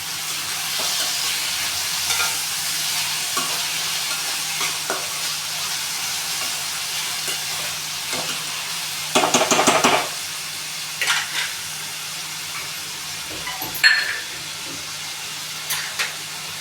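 Chopped tomato and onion sizzle steadily in a hot pan for a sabji, with scraping stirs and a few clinks of utensil against metal rising over the constant frying hiss.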